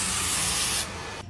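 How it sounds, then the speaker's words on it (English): A short, close burst of hair texture spray hisses for about a second, then stops. "I'm gonna go grab some texture spray"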